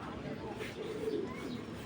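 Soft racing pigeon coos murmur through the clip, with a few faint chirps and some quiet talking underneath.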